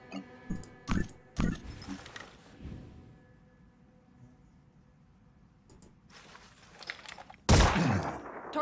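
Video game Phoenix Point gunfire: a few sharp, loud shots in quick succession early on, a quieter stretch with faint mechanical sounds, then another heavy blast near the end.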